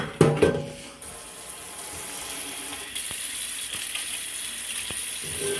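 Steady hiss of hot water running from a kitchen tap into a pot, continuous and close, with a few brief clanks and knocks at the start and scattered through.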